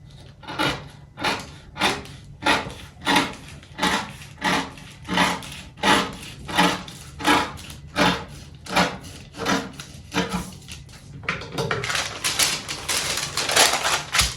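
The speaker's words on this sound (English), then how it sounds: "Using my paper scissors, I'm just going to go ahead and cut." Paper scissors cut through a paper pattern for a beret, a close, regular series of crisp snipping strokes about every two-thirds of a second, giving way to a denser rustling of paper near the end.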